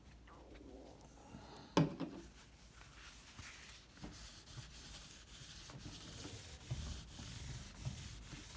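A cloth rubs Gibson fretboard conditioner along a guitar fretboard, making soft, quiet scrubbing strokes with a single sharper knock early on; no voices are heard.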